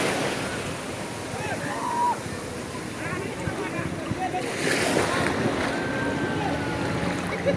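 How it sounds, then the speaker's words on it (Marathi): A boat is taken out to sea on the Malvan coast of Konkan, with steady surf and wind noise filling the scene and people talking throughout. "काका आता बोट घेऊन पळतात. बोट घेऊन जाते आता."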